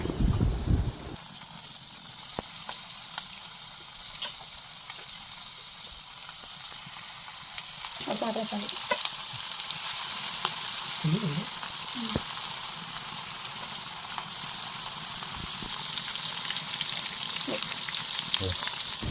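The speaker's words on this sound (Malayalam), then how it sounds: "ഫസ്റ്റത്തെ ട്രിപ്പ് പൊരിച്ച് കഴിഞ്ഞ് നെക്സ്റ്റ് നമുക്ക് ചട്ടിക്ക് ഇട്ട് കൊടുക്കാം" Broast chicken pieces frying in a pan of oil make a steady, loud sizzle that runs throughout, with occasional faint clinks and stirring sounds over the hiss.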